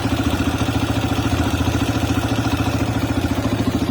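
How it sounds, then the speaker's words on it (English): A CSC RX3 motorcycle engine idles close by at about 1500 rpm, a steady, even chugging pulse with a light mechanical clatter and nothing else heard. "where the bike is idling at, just slightly, a little bit, just a tiny bit over 1500"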